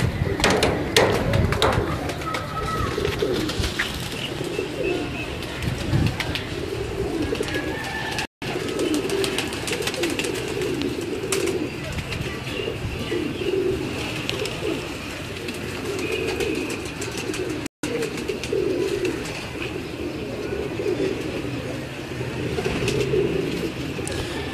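Tippler pigeons cooing on a rooftop, repeated soft throaty coos throughout with occasional chirps and background rustle, someone speaking faintly at times.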